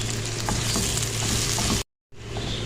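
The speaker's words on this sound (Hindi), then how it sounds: "इसको भूनेंगे और अब इन दोनों चीज़ों को हमने लाइट गोल्डन सा होने तक भून लेंगे।" Ginger garlic paste and onion fry in a pan for chana dal, a continuous close sizzle with light crackle, broken by a brief total silence before the hiss resumes.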